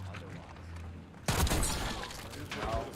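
Gunfire in a shooter video game starts abruptly about halfway through as a loud, dense burst of shots after a quieter stretch, then continues with a second surge near the end.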